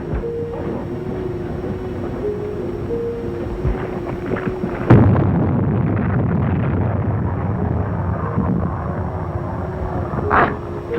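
A torpedo is fired from a U-boat and explodes: a steady mechanical hum gives way to a sudden heavy boom, then a loud rolling rumble that slowly fades.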